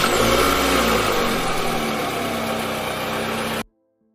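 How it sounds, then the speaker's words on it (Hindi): A car engine runs steadily, loud and close, with a brief revving surge near the start before settling into a smooth drive-away hum that cuts off abruptly; no voices. "प्रीति बात करते करते गाड़ी में बैठ गई और घर चली।"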